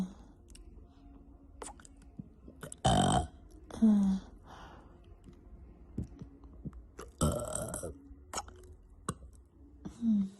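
Several loud, close burps break out at intervals among quieter mouth sounds and soft clicks, with brief murmured talk between them.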